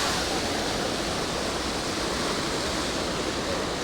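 Water rushes with force over Balmuri Falls near Mysore, a steady broadband roar that continues without a break and sounds full and close, with no voices.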